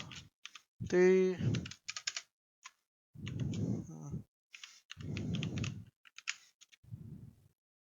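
Someone types HTML on a computer keyboard, giving light bursts of clicking keystrokes in short clusters, with a brief voiced murmur or sigh early on and softer vocal sounds between the bursts.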